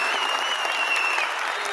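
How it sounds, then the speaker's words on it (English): Sustained applause from a group of people clapping hands, a dense even patter of many claps throughout with a faint high tone running beneath. "Clap hands for Solomon."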